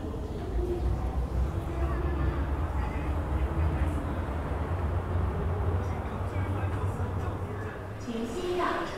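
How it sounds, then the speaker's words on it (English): A steady low rumble of a subway train rolling into Admiralty Station past platform doors, continuous and fairly loud, with a faint squeal near the end. "The train to TransWa is arriving."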